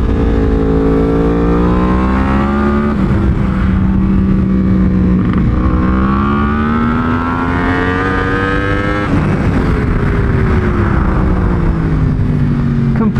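A 2019 Yamaha R1 braking late on a race track: a loud, continuous engine note close by, its pitch sliding down and then climbing again through the pass, with no talking.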